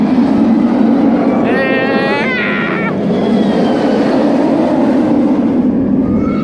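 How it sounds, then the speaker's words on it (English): The Goliath inverted roller coaster train at Six Flags Fiesta Texas roars past in the rain, a loud continuous rumble and wash of noise. Brief high squealing tones ride over it for a moment. "And also, this train roars louder than the other train does."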